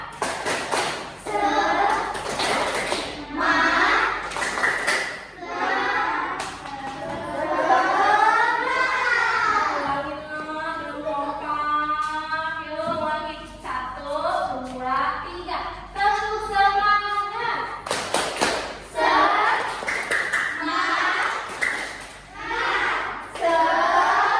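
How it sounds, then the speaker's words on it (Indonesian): Classroom children chanting a spirit cheer with rhythmic group claps, bursts of sharp claps at the start and end around sustained sing-song voices, loud and close. "Kita tepuk semangat dulu."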